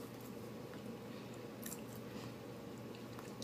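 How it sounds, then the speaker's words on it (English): Hot Doritos being chewed up close, with soft repeated crunching and wet mastication, quiet and continuous with no talk. "It's a lot of hot Doritos"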